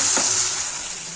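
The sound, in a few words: dal frying with onion, tomato, green chili, garlic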